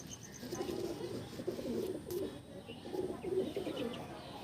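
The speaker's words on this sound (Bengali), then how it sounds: "এগুলো দিল্লির পায়রা থাকছে দাদার দাদার বেশিরভাগ সব দিল্লির পায়রারই কালেকশান" Delhi pigeons coo softly in a loft, low rolling calls repeating through a steady background hum, faint and somewhat distant with no talking.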